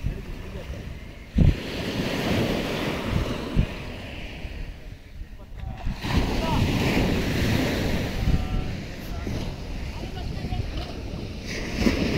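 Ocean surf rolls onto Eco Beach at Honnavar, Karnataka, a steady broad wash of breaking waves mixed with heavy wind buffeting the microphone, with a few sharp knocks and faint voices in the background.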